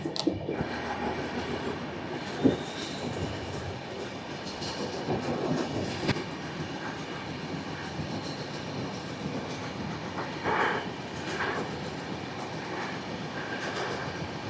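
The Garib Rath Express (12739) runs from Visakhapatnam to Secunderabad, heard from inside a coach as a loud, steady rumble with rhythmic wheel clatter and occasional knocks and jolts throughout.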